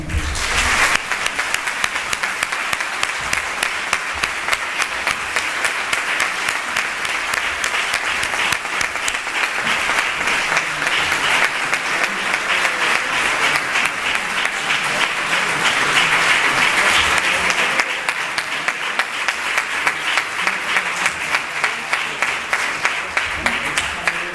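An audience at a presentation event bursts into loud, sustained applause, many hands clapping densely and evenly for the full length, swelling slightly near the middle before settling, with no speech over it.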